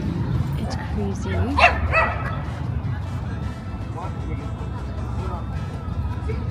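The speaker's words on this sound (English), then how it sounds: "There are so many dogs in Mexico City." Dogs on a Mexico City street give a few yips and short barks that rise above a constant roar of street and traffic noise, not loud, with some background voices.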